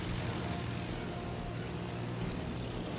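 A steady, droning engine roar from German torpedo planes in the naval game World of Warships Legends, constant and fairly loud with no clear breaks and no talk.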